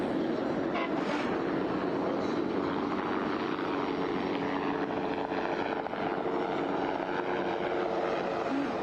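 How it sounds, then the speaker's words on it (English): Helicopter rotor and engine noise over a bass fishing tournament broadcast, a steady dense drone continuing throughout without pause, loud and close, with no clear talk. "A lot of audio from a helicopter,"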